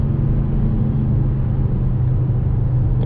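A Škoda Kodiaq RS SUV from 2019, engine droning steadily at speed with low rumbling road noise, a constant even tone throughout with no voices.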